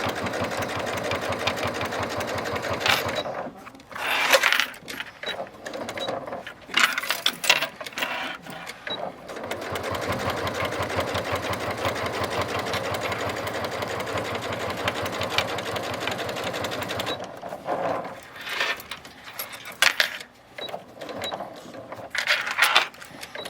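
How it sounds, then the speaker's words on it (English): Sewing machine stitching through a cork bag, running in steady bursts of rapid needle clatter separated by short pauses, close and fairly loud. "I'm going to just sew around this. And I'm just following that line."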